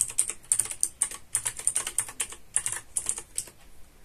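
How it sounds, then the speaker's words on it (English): Keys clatter on a computer keyboard in a fast, steady run of crisp, close clicks, with brief pauses between bursts and no voices. "type station WLAN0 connect and then my Wi-Fi name. So you need to know your Wi-Fi name, and after that type your Wi-Fi password."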